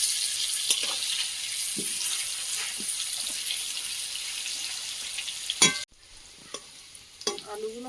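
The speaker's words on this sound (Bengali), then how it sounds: "আলুগুলো ভাজা হয়ে গেছে, তুলে নেব।" Potatoes fry in a pan on a new clay stove, a steady bright sizzle with scattered stirring clinks and scrapes, then the sizzle cuts off near the end, leaving only faint clatter.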